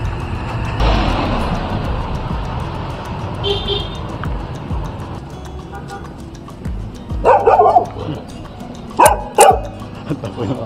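A large dog barks in short bursts from the roadside during a street walk in Ragay, Camarines Sur, over steady outdoor traffic ambience.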